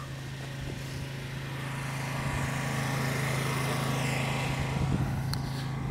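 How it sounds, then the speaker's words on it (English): An industrial high-pressure, high-temperature pressure washer runs with a steady motorized drone and hum, its pitch holding constant with a slight swell in loudness partway through. "Now I'll pressure wash this for a full 5 minutes using an industrial strength, high pressure, high temperature pressure washer."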